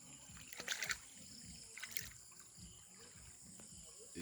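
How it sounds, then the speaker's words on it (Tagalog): A creek on a farm trickles faintly and steadily, with a few brief splashy bursts of water over a quiet outdoor background. "Umaagos ang tubig."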